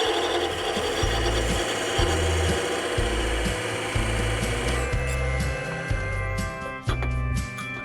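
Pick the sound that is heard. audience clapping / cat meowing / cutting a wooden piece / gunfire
cutting a wooden piece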